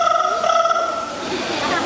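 A parrot at a bird park mimics a ringing telephone, producing steady warbling electronic-style tones close to the mic, with faint background chatter mixed in.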